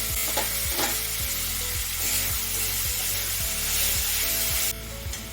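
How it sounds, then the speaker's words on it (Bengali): Constant sizzling of tomato puree frying in a pan, with a repeated scraping and stirring rhythm, fairly close and without any voices. "এইবারে এতে এই টমেটো পিউরিটা মেশাবো"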